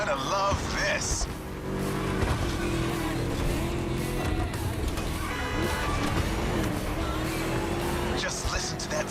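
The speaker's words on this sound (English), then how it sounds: "Just listen to that V8" A V8 engine in the racing game The Crew Motorfest growls and revs continuously, with brief tire squeals, heard beneath a voice talking throughout.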